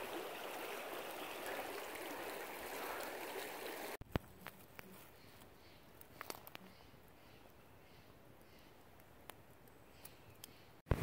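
Paiute Creek in the Sierra Nevada, a mountain stream crossed by a log, gives a steady broadband rush of flowing water, louder during the first four seconds and then softer, with occasional faint ticks and clicks over it.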